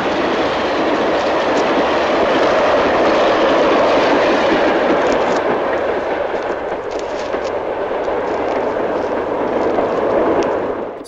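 A train passes close by, its steady, loud rumbling roar holding for the whole stretch with faint clickety-clack of railcars running underneath.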